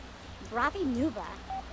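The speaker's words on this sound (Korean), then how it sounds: "비 맞으면서 전화하네." A phone in The Sims 3 life-simulation game gives a short run of dialing tones, a few brief electronic pitches under cheerful speech.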